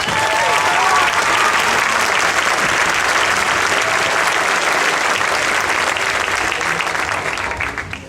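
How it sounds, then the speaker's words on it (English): A full round of applause from a school graduation audience, broad steady clapping that stays strong for several seconds, with a few faint cheers, before tapering off at the close. "could you give them a round of applause?"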